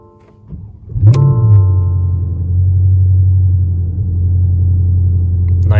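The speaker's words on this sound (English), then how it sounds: "Switch it to the ACC there. Start up in sport mode." A 2021 Porsche Panamera GTS cold-starts in sport mode: a starter whirr, then a quick surge as the engine catches and settles into a steady, loud low idle rumble.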